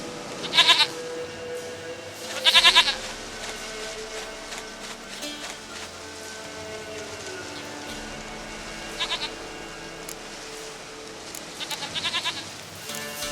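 A goat bleats several times in the video game The Witcher 3: Wild Hunt, loud, wavering cries with gaps between them, over a steady low background of ambient music and noise.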